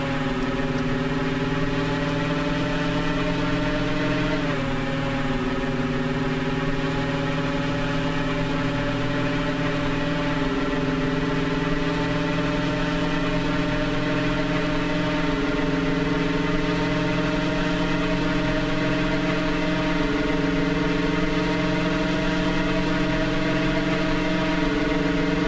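Truck engine in the Motor Depot driving game, a steady mid-pitched droning hum throughout with a brief pitch dip early on, continuous and even with no talking.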